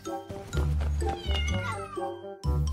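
A cat meows repeatedly at close range, several drawn-out, wavering cries in quick succession with short gaps between them.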